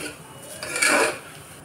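A tempering of chillies and peanuts frying in oil is stirred in a pan, one brief metallic scrape of a spoon that swells and fades against a soft sizzle.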